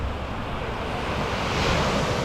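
Ocean surf breaks along the Myrtle Beach shore in South Carolina, a broad, constant roar of waves with wind buffeting the microphone, swelling slightly louder toward the end, no talking.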